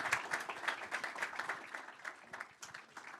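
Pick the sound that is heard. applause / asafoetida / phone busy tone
applause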